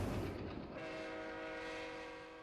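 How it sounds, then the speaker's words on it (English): A 38 class steam locomotive hauling a local passenger train on the approach to Museum Junction rumbles past close by, a dense, steady roar of rolling stock with a broad rushing wash. "A 38 class steam locomotive with a local passenger train passes us on our approach to"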